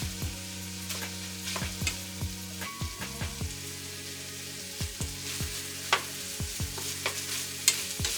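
Ground beef browning in a pan for beef baked beans, with a steady sizzle under repeated scraping stirs of a spoon against the pan bottom, close and clear.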